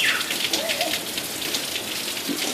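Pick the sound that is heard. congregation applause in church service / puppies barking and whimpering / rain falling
rain falling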